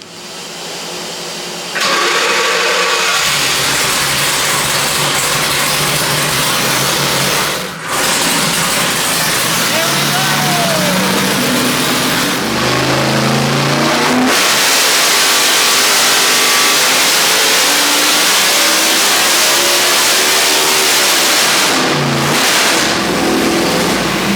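Engine of a manual C8 Corvette drift car revving hard during a dyno pull, a loud sustained roar rising and falling in pitch through several gear sweeps, with a brief dip in the middle.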